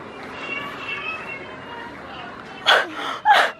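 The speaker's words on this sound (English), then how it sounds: "This sweater meows." A novelty sweater gives out two short, close meows near the end after a quiet stretch of room noise.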